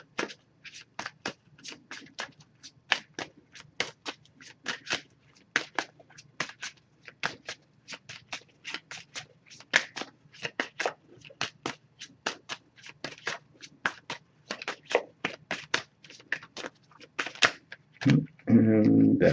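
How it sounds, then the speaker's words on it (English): An oracle card deck being shuffled by hand, producing a long run of quick, crisp flicking snaps close up, fairly quiet and rhythmic, ending with a brief louder rustle. "Just going to pull a single card from this deck."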